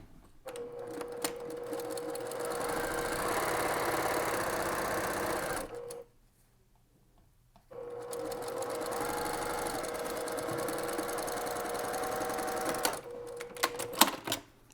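A sewing machine stitches fabric in a fast, even whir for several seconds, pauses briefly, then runs again at steady speed, close and loud with no talk.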